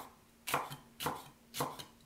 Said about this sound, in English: Cut them into chunks.